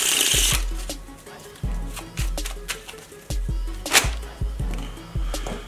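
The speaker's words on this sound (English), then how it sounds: "I'll shuffle the cards." A deck of playing cards is shuffled in a series of sharp riffling bursts and taps, close and fairly loud, with short pauses between each pass.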